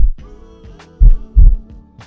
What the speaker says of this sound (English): 2 miles away, one can hear the heartbeat of a blue whale.